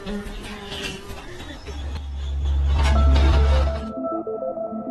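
Flies buzz around a garbage collector in a film scene, a steady droning hum that swells louder and closer midway, then cuts off abruptly near the end, leaving a faint tone.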